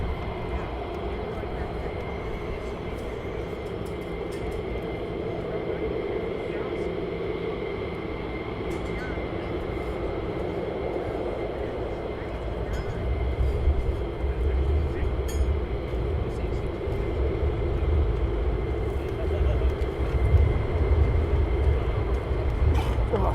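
Two fighter jets depart RAF Lakenheath, a broad distant engine roar that swells louder toward the end, with people talking over it.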